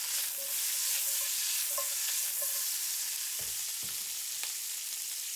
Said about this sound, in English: we'll throw in our broccoli into the pan and we'll let it stew in all the juices